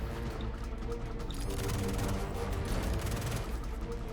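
Karna rifle gunfire in the space shooter game Star Citizen: rapid automatic bursts crackle densely for about two seconds over a constant loud background of game noise.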